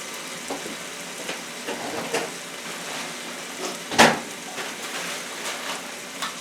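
Meat and vegetables sizzling in a stir fry pan, a steady soft crackle with occasional louder clatters of stirring.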